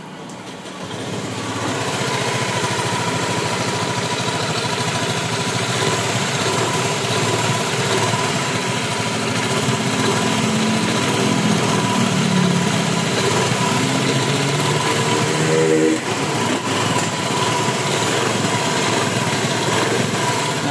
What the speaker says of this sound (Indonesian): ada suara kemerincing ya di area CVT ya